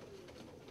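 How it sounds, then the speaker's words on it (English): Saxon double-crested priest pigeon cooing softly and steadily, a close, low murmuring call. "Saxon double-crested priest."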